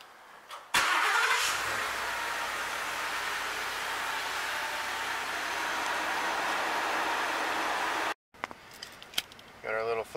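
A new pickup truck's engine cranks and catches, then settles into a steady, loud idle close by for several seconds before a sudden cutoff and scattered handling noises.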